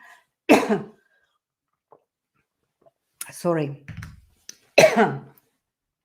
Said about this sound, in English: I had this cough